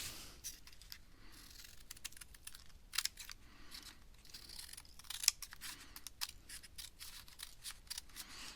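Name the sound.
scissors cutting off the bottom of glued paper weaving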